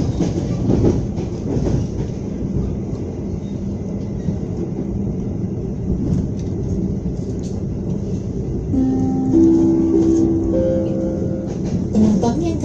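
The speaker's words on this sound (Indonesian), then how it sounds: "sesaat lagi kereta api Sancaka akan tiba di tujuan akhir stasiun Surabaya Gubeng." Sancaka passenger train running on rails between Yogyakarta and Surabaya, a steady low rumble of wheels and carriage noise heard from inside, with brief tonal squeals near the end as it approaches Surabaya Gubeng station.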